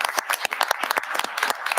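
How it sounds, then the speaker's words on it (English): Applause from an awards-ceremony audience at an Earth Day Awards event, fairly sparse and uneven with distinct individual claps standing out, moderately close and steady for the short stretch. "one more round of applause"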